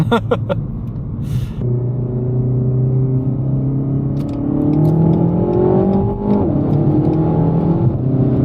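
A Renault Megane RS 300 hot hatch accelerates on a road, its engine note climbing through the gears with a steady rising drone and a gear change near the end. Brief clicks are heard at the start.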